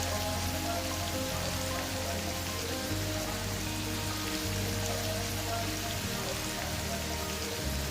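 Onions go into a hot frying pan for a beef mushroom stir fry, giving a dense, even sizzle that hisses loudly and without a break throughout.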